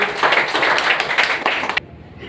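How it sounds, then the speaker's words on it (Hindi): Audience clapping for a guest named Soham being welcomed at a Birsa Munda Jayanti celebration at an academy in Indore, a dense burst of hands that cuts off abruptly near the end. "जोरदार तालियां सोहम के लिए।"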